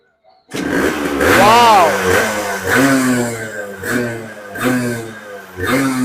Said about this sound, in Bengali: মারো স্টার্ট মারো দেখি কিক মারতে পারবে তো